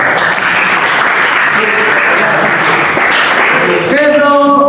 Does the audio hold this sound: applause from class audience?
yes